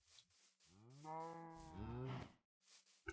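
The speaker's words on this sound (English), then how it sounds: "I have my fluid cows over here" Cows mooing in the Minecraft StoneBlock 2 modpack, the fluid cows kept in stored pens: a long, loud low moo lasting over a second, alone, with short clicky game sounds before and after.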